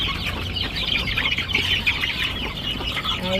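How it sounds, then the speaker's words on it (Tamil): A speckled hen in Jaffna clucks in busy, repeated bursts, close and fairly loud, with more poultry calls blending into a continuous farmyard chatter. "ஒரு முறையும் புள்ளி கோழி வருது"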